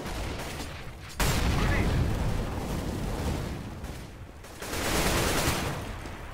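Auto sniper rifle fire in CS:GO comes as loud, sharp bursts. One strong shot lands early, then a rumbling barrage follows and another cluster of shots comes near the end.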